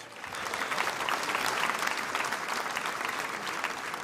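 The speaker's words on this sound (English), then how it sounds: "Give yourselves a round of applause." A political rally audience applauds in a dense, sustained wash of clapping that holds steady for several seconds, loud and close, with no one speaking over it.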